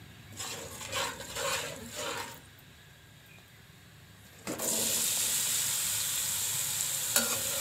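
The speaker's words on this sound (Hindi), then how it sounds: "थोड़ा से भून लेना पहले।" Chickpeas fry in a pan for street-style samosa chana. Several rough stirring scrapes come first, then a short quiet stretch, then a sudden loud, steady sizzle that keeps going close by without any voices.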